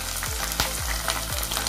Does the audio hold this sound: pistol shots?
no